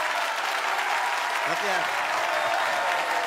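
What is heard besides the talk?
audience applause after a live song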